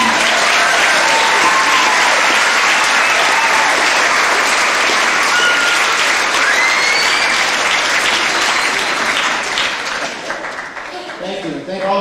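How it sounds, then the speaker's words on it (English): A crowd applauds three contest winners at a 25th anniversary concert; loud, dense, sustained clapping with some cheering fills about ten seconds before thinning out at the end. "And can we have a round of applause for all three of our winners?"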